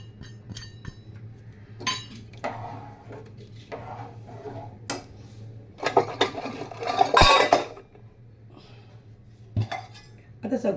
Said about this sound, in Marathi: मिक्स करून घ्या एकदा.